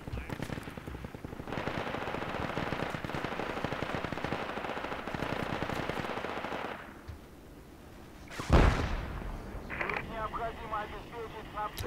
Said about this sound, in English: they shoot them through the trees as they come up